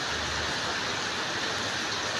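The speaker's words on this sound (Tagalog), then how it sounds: "ang lakas-lakas ng ulan" Heavy rain pours down steadily over a garden of potted plants, a dense, even hiss of water with no break and no voices.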